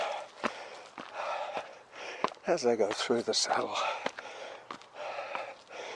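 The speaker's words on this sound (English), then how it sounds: "Get lots of heavy breathing" Heavy, rapid breathing and gasps from a man running on a trail punctuate his speech, with rhythmic panting and occasional thuds like footfalls close to the microphone.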